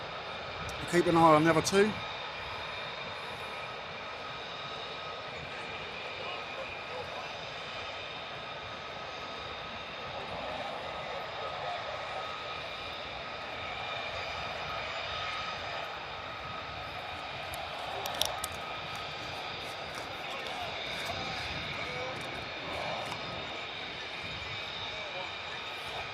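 Military jet aircraft noise at RAF Lakenheath, where F-35s operate, forms a distant steady roar across the whole stretch, with people talking briefly over it near the start and end.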